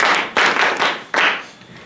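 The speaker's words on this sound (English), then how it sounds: "Clap for yourselves." Students in a school chemistry practical clap for themselves in a short, uneven burst of three or four swells of hand claps that rise and fade within two seconds.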